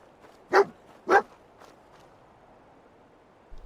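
Dogmeat, the canine companion in the video game Fallout 4, gives two quick barks in a row at moderate distance over a quiet game backdrop.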